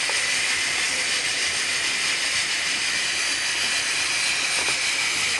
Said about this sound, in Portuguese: Vou refogar por alguns minutos.